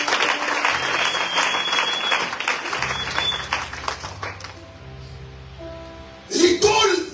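Church congregation applauding and cheering to acclaim the Lord at a French-language service, a dense wash of clapping with low sustained organ or keyboard notes beneath, swelling into a louder burst near the end.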